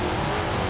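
A carbureted V8 car engine in the Forza Horizon 2 racing game gives a brief, loud, steady roar with no talk over it.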